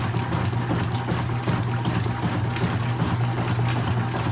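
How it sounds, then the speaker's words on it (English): A washing machine agitating water in its drum, a continuous churning, sloshing wash with a steady low motor hum underneath, even and unbroken throughout, with no voices. "See how low it just got when it agitated?"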